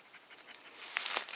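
A dog pants in short, quick breaths, close by and fairly soft, with a faint high steady whine in the background and no one speaking.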